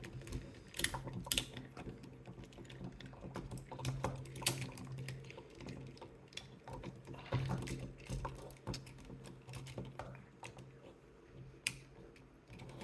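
Plastic parts of a 2005 Transformers Cybertron Leader Class Optimus Prime toy are handled and clipped into place, giving many small close clicks and rattles spread irregularly throughout, quiet and without talk.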